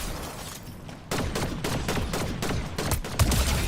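Sniper rifle fire in Fortnite, a burst of rapid sharp gunshots cracking one after another over a steady game background, fairly close and loud, with no talking.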